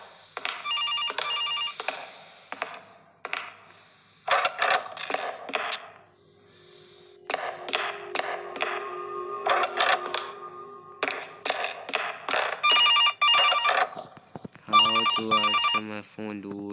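A telephone rings repeatedly inside the horror video game Case Animatronics, bursts of electronic bell tones returning in rhythmic clusters with gaps between, mixed with game sounds and someone talking over them.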